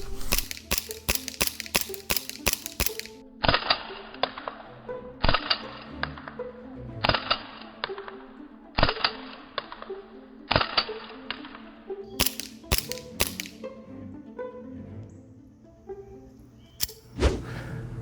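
A JAG Arms GMX-1 Hi Capa gas airsoft pistol fires a rapid string of sharp cracks, then single shots at a slower, irregular pace with quiet gaps, and a few quick shots near the end.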